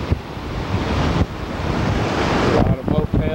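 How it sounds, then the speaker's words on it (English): Strong wind roars steadily across an open beach near a fishing pier at Myrtle Beach, a continuous broadband rush with surf mixed in and gusts buffeting the microphone close up. "it's pretty windy out today."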